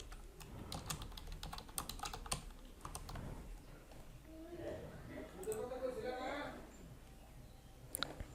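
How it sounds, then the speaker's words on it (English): Typing a WordPress plugin name into a search box on a computer keyboard: a rapid run of light key clicks in the first few seconds, then quieter scattered taps with soft background sounds. "in the search plugins box type the plugin name that you want to"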